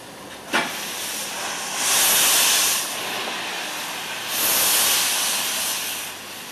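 Narrow-gauge 0-8-0 steam locomotives at a limestone quarry in Beijing's western suburbs, with a sharp exhaust chuff followed by two long, loud bursts of hissing steam.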